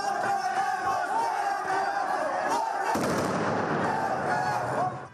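Dense protest clash with a shouting crowd, firecrackers and gas grenades fired toward police; a continuous roar of voices and bursts fills the whole stretch, swelling into a louder, rougher wash of noise midway.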